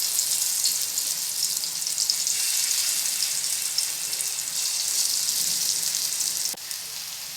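Pieces of yam dropped into hot oil, frying with a steady, loud hiss that runs throughout, plus a small clink near the end.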